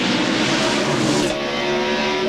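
NASCAR Winston Cup stock cars racing on track in 1999, a loud continuous roar of several engines blending together as the pack battles for position.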